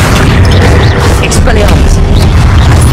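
A Confringo spell explodes in the Hogwarts Legacy video game, a loud, dense blast with a sustained booming rumble that fills the whole moment, close and heavy.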